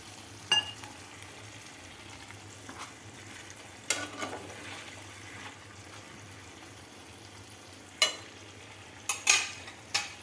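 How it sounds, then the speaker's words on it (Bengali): Potatoes frying in a pan with a little water stirred in, giving a soft low sizzle under several sharp scraping and clattering strokes of a spoon against the pan, spaced irregularly. "অল্প একটুখানি জল মেশাচ্ছি"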